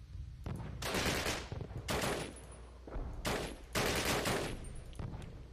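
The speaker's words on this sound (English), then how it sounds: "Who's shooting at me?" Gunfire in the Call of Duty 1 video game: loud, sustained bursts of automatic weapon fire in several long volleys separated by brief gaps, close and dominant.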